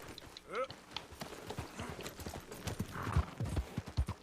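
Horse hooves clip-clop steadily in Red Dead Redemption 2, a rhythmic trotting beat with a brief whinny near the start, heard under ongoing conversation between players.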